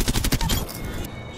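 Rapid automatic gunfire from Apex Legends bursts loudly in quick succession, then trails off into a brief echoing tail.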